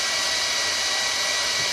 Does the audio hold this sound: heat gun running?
yes